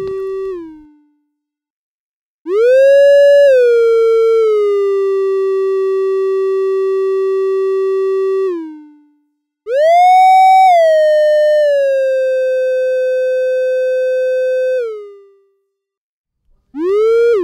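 An Arturia Modular V synthesizer plays a pure, whistle-like tone shaped by an ADSR envelope with a one-second attack, two-second decay, sustain at 0.40 and one-second release, repeated twice with a third beginning, each swelling, settling to a steady hold, then fading.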